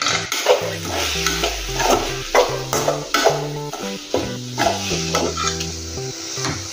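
A spoon stirs and scrapes spices, including coriander powder, around a sizzling pan of potato and eggplant curry in repeated strokes, with a melodic tune playing underneath.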